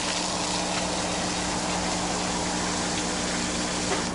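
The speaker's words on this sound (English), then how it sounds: "I'm going to turn on the dosing so you can see it." A wastewater treatment system's dosing pump sprays water onto filter media, giving a steady, continuous rush of gushing water with a low mechanical hum underneath, even and unbroken throughout.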